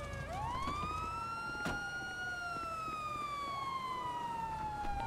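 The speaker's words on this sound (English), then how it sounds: "Let's get a siren check." A police car siren in the GTA roleplay video game wails steadily and loudly, its pitch sweeping up and then slowly gliding down across the whole stretch, with no talk over it.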